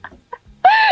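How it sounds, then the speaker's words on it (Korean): Birds call around a rural country house in a forest village in Yeoju, South Korea: a few soft, short chirps come first, then a loud, close, drawn-out call that fills the end. "들리시죠? 이 새소리,"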